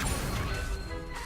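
A spell impact in the Hogwarts Legacy game lands as a short, heavy crash, one dense burst of noise that quickly settles.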